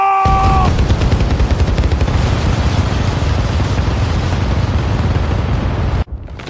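Dense, continuous gunfire rumbles loud and unbroken for about six seconds in an animated sci-fi survival drama, with a brief ringing tone at the start before cutting off abruptly.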